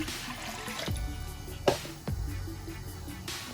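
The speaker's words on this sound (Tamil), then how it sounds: "ஒரு 1/2 லிட்டர் தண்ணியை விட்டு" Half a litre of water pours and trickles into a metal cooking pot for a sardine mango curry, with a couple of sharp clanks of the vessel along the way.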